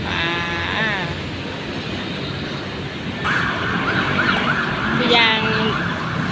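A wailing emergency siren sweeps up and down over steady traffic rumble at Victory Monument in Bangkok, Thailand, fading then returning louder as it passes nearby.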